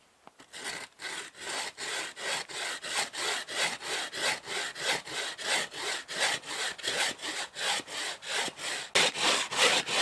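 Hand saw cutting wood held on a sawhorse outdoors, a close, loud rasping with regular back-and-forth strokes repeating throughout, alone without talk.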